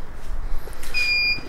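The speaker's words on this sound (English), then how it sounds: "You hear a beep. It's powering up." A WZRELB 3000W split-phase 24 V inverter emits a single brief high-pitched electronic beep as it powers up, clear against a quiet low background hiss.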